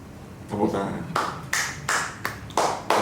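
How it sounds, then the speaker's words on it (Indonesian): Hand clapping in a casual home kitchen during a cooking taste test, arriving as several sharp bursts of claps from a small group, close and fairly loud, with chatter around them. "Tepuk tangan"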